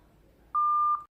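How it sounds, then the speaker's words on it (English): A single steady electronic beep, close and clear, lasting about half a second from a retro-style audio guest book phone voice recorder, over faint background hiss. "long press the middle button until you hear a beep"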